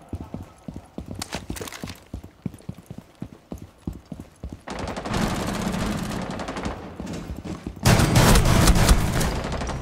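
Rapid gunfire from Rainbow Six Siege, close and loud, with bursts of sharp shots that grow denser and heavier toward the end, over game background noise.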